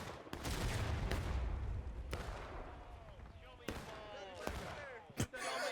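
Gunfire in the video game Ghosts of Antietam cracks out as sharp single shots at irregular intervals, some near and some farther off, with faint voices in the background.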